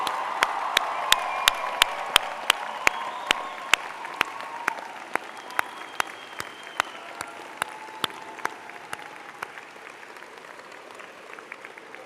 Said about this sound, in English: join with me in applauding the graduating class of October